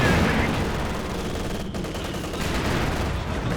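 A Katyusha rocket barrage in Company of Heroes 2 rumbles and crackles as a dense stream of rapid blasts, loud and continuous with a slight dip midway.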